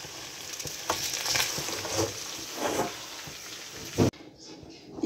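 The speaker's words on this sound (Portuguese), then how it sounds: "fritando a calabresa pra comer com pirão" Calabresa sausage fries and sizzles in a pan with a busy crackling hiss and occasional stirring scrapes, fairly close, cutting off abruptly near the end.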